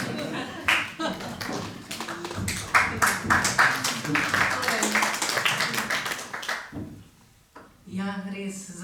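Audience applause at a press conference presenting new books from Slovenska matica: steady, fairly close clapping from a roomful of people runs for several seconds, then fades, and a voice starts speaking at the end.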